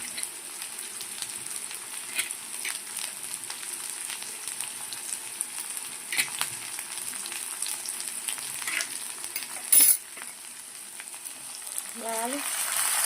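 Onions and green chillies frying in a pan, a steady close crackling sizzle with faint stirring scrapes throughout, a brief louder clatter near the end.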